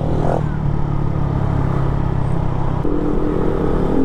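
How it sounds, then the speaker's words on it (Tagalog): Motorcycle fitted with an Akrapovic exhaust, silencer and dB killer idling close by, a steady low rumble with a short throttle blip near the start and a drop in engine note near the end. "Naririnig mo yung bira mo sa throttle."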